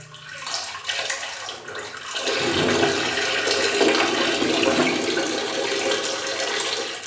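Steady water splashing and rushing into a toilet bowl, close and continuous after a brief quieter start.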